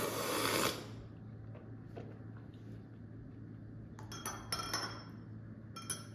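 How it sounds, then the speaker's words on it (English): A spoon rinsed in a glass of water at a coffee cupping, a short splash followed by several light, bright clinks of metal against glass, close by and quiet. "Make sure every time you take a taste, you rinse the spoon."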